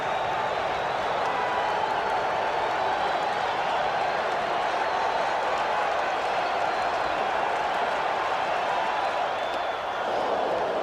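Baseball stadium crowd at the 1986 World Series, Boston Red Sox versus New York Mets, Game 2: a dense, steady roar of many voices and clapping that fills the whole stretch without letup.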